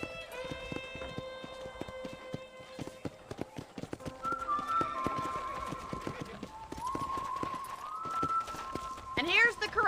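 Horses' hooves clip-clop in a ranch corral in the Red Dead Redemption video game, a steady run of sharp hoof knocks with a brief whinny. Sustained tonal sounds play over them.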